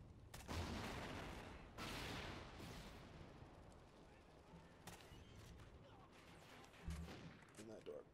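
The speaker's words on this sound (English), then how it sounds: "Going to town, chain gunning away" Chain gun in Call of Duty: Ghosts firing in sustained rattling bursts, mixed with other distant gunfire and game noise at moderate loudness across the whole stretch.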